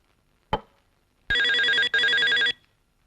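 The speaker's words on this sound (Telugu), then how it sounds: "వేళాపాడా లేకుండా ఫోన్ చేస్తూ ఉంటారు" A telephone bell rings loudly in two long, close bursts with a short gap between them, preceded by a sharp knock or clatter.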